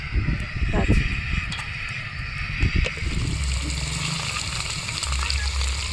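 Whole spices, dried red chili, bay leaf and cinnamon frying in hot oil, a moderate sizzle and crackle up close while a person talks over it.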